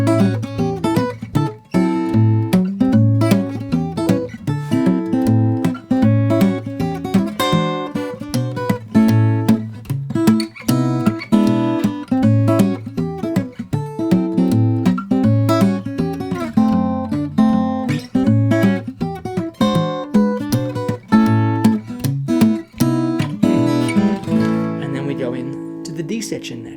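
Fingerstyle acoustic guitar plays a song, bright plucked notes and chords in a steady rhythmic flow, loud and close with no talking over it.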